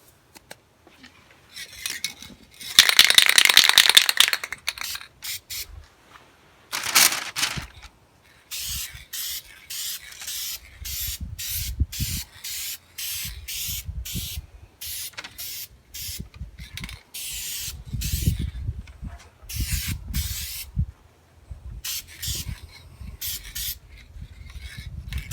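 Spray paint can hissing onto a rust repair in a series of short bursts, with a longer spray near the start, then rapid intermittent spurts and occasional scraping and handling noises between them, no talk.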